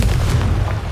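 Confringo fire spell blasting in the game Hogwarts Legacy: one heavy, booming explosion that rolls on as a dense low rumble for under a second, with no talk over it.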